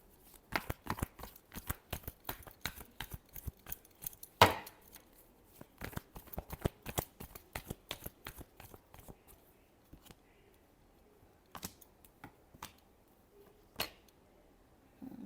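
Tarot cards are shuffled by hand in a quick run of crisp, close riffling slaps, busy at first, then thinning to a few separate snaps.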